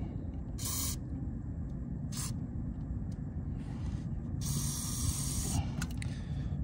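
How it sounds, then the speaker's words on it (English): Several short bursts of aerosol lubricant hiss in quick succession onto a travel trailer's leaf spring bushings, close up, over a steady low rumble of background noise. "You just want to spray it in there."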